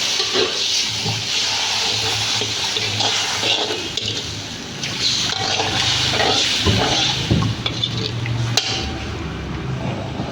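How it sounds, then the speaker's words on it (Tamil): Steady bubbling and sizzling from a pan of dried anchovy gravy simmering on the stove, a continuous hissing boil with soft pops throughout. "இப்போ பார்த்தீங்கன்னா நல்லா கிரேவி கொதிக்க ஆரம்பிச்சிச்சு"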